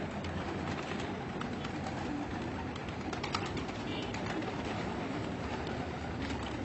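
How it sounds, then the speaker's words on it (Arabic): Pet pigeons of the muhayyarat breed coo in a loft, a dense, continuous murmur of soft calls that stays close and steady with no voices. "طيور"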